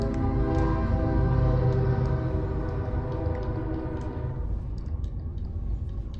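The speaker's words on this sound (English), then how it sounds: "oh, there's a train outside my house now." A train passes outside a house with a loud sustained horn blast whose steady tones fill the first few seconds, then the rumble of the rail cars rolling past continues and slowly fades.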